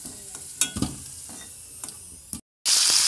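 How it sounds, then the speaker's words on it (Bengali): Potato pieces seasoned with salt and turmeric fry in a wok, giving a soft sizzle broken by sharp spatula scrapes and clacks. A brief silent gap comes just before a loud burst of hiss at the end. "আলুটাকেও আমি ভালো করে একটু ভেজে নেব"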